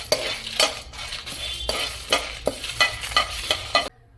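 Busy pan frying of mutton and dried red chilies, with repeated stirring scrapes and clinks over a steady sizzle, close and fairly loud, ending abruptly.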